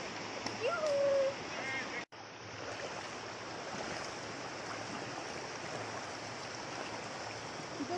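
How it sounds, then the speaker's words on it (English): A small river stream flows along a trekking route near Dudhsagar Falls in Goa, a steady rushing wash of water heard close and continuous, with a brief voice near the start. "you can see this small river"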